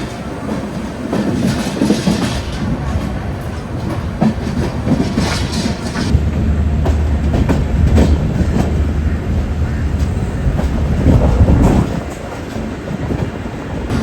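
An Indian express train runs steadily through rain, heard from a general coach, with a rumbling, rattling clatter of wheels on rails, continuous and fairly loud throughout.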